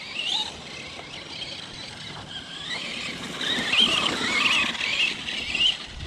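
An Arrma Kraton 4S RC car with upgraded steel crown and pinion differentials drives past at close range. Its high electric whine and squealing tyres rise and fall, growing louder toward the middle and end.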